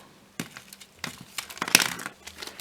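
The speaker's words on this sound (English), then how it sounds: "then we take our plastic bag," A plastic bag crinkles and crackles up close in irregular bursts, sharp rustles rising and falling with quiet gaps between them, no voices.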